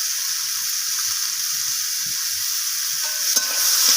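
Soybeans with salt and ginger paste sauté in a hot pan, giving a loud, steady sizzle with a few light spoon scrapes as they are stirred, close up and with no voices.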